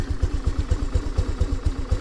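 A 2022 Honda NAVI motorcycle engine idling low, a close, steady, rapid chugging pulse with a slight mechanical clatter, heard alone.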